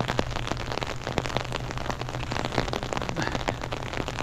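Rain falling on an open field, a dense steady patter of drops with scattered sharper taps, close and fairly loud throughout without speech.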